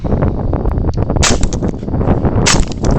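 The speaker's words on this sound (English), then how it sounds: "So I decide that I should go ahead and shoot it." A rifle fired at a hog outdoors during rain, two sharp, loud cracks about a second apart over a constant noisy background.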